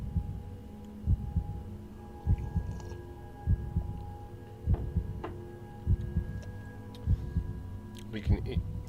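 A steady heartbeat thumps in the Circus Interstellar arcade game on an iiRcade cabinet, regular double-pulsed beats about once a second. Background game hum and a faint voice sit under the beats.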